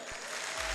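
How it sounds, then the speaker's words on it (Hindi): A seminar audience in Lucknow applauding, a dense continuous patter of many hands clapping at moderate level throughout the short moment, with no voices over it. "जोरदार ताली बजाओ।"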